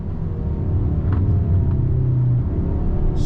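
A 2021 Hyundai Sonata N Line sport sedan driven hard, its engine and exhaust heard from inside the cabin as a steady, loud low rumble, with faint clicks and no talking.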